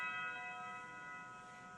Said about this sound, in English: The first one being this bell.